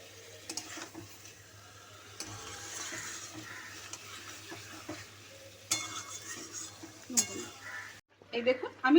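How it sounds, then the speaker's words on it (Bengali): Food stirred in a pan on a gas stove over medium-high flame, with faint sizzling and occasional clinks of the spatula against the pan, steady and fairly quiet, with brief louder knocks near the end. "দেখুন আমি ভালো করে নাড়িয়ে দিচ্ছি।"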